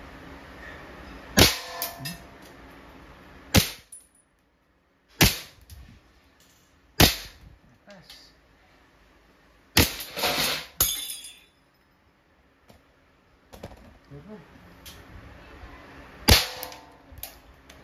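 An RWA Nighthawk Custom full-metal blowback airsoft pistol fires at glass bottles. Several sharp isolated cracks come with bright glass shattering and tinkling debris, spaced seconds apart and heard close.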